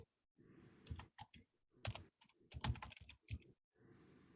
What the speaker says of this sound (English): My keyboard has decided to become a little bit sticky.